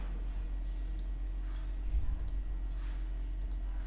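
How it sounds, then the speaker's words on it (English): A computer mouse is double-clicked, producing faint, crisp pairs of clicks that repeat a few times over a steady low electrical hum. "Just double click it to extract this zip file."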